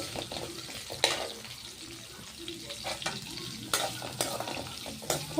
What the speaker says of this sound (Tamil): வெங்காயம் நல்லா வதங்கணும் நல்லா வதங்க விடுங்க